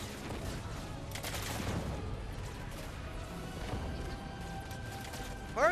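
Mech blast gunfire in the Halo Wars 2 video game: a dense, continuous spray of rapid shots and crashing impacts at even loudness, ending in a brief louder burst.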